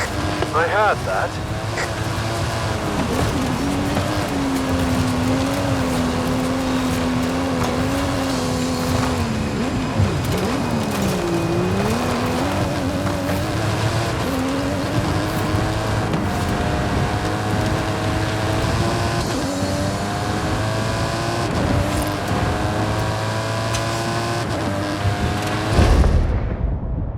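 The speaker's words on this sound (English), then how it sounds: "That stunt vehicle is a Mike Steel Special. Custom engine and suspension." A custom stunt car with custom engine and suspension races uphill in Forza Horizon 5, its engine droning and shifting pitch steadily throughout, with voices talking over it and a brief louder burst near the end.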